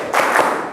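Hand clapping during a classroom clapping game: a dense burst of several quick claps blending together for under a second, fairly close and loud.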